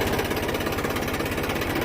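Car exhaust idling without the turbo whistle attachment fitted, a close, steady, rapid low pulsing rumble that runs throughout.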